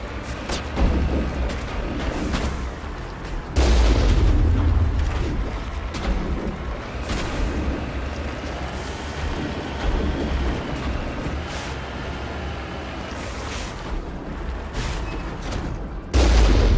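Combat in Mass Effect with a heavy, continuous roar of gunfire and booming explosions. Thick low-end blasts hit at the start, partway through and at the end over a constant rumbling wash.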